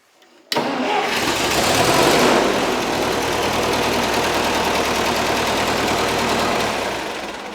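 A rebuilt Massey Ferguson tractor engine cranks and catches about half a second in, then settles into a loud, steady, even idle with no knocking, running alone and close for several seconds before easing slightly at the end.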